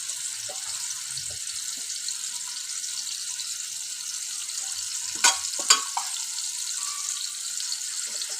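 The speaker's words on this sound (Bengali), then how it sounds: "তো মাছটা বিসমিল্লাহ বসাই দিলাম।" A small hilsa fish fries in a pan with a steady, close, low sizzle and faint hiss, with two brief sharp clatters partway through.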